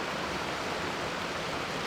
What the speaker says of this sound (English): little series of waterfalls leading up